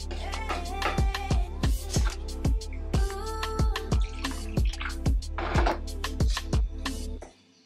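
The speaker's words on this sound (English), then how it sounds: "So I'm just putting the water in and kneading it" Dumpling dough being kneaded with water produces a steady run of wet, squelching slaps and drips, about three per second, close and fairly loud, ending in a brief quiet.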